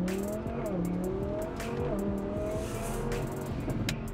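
Twin-turbo V10 Audi R8 driving hard, a loud continuous engine roar with shifting pitch and rasping texture as it accelerates and changes gear, close and dominant with road noise beneath.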